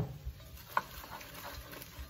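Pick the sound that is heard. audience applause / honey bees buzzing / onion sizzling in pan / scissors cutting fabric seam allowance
onion sizzling in pan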